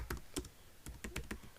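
Quiet typing on a computer keyboard while writing in a word processor, a short run of about eight soft, uneven key clicks in quick succession, close and alone with no talk.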